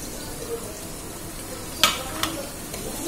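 Onions frying in oil as garlic goes in, a steady low sizzle with a couple of brief sharper crackles partway through, heard close in a home kitchen.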